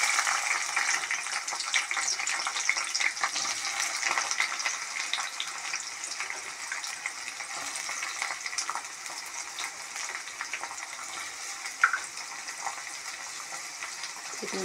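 Onion pieces frying in hot oil in a kadai for chicken curry, a continuous bright sizzle and crackle at steady loudness with no voices.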